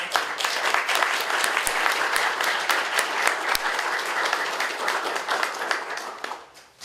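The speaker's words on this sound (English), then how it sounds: "Please join me in a round of applause for this incredible design." Audience applause at a library ribbon cutting, a dense steady wash of many hands clapping close by, with a few sharper individual claps standing out, fading toward the end.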